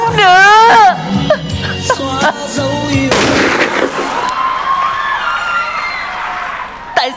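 A gunshot fired into the air on stage during a comedy sketch, one sharp loud burst cutting through excited shouting voices, followed by a lingering wash of audience noise.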